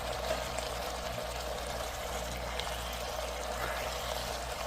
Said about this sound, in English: I'm going to come in here and add my marinara sauce to it.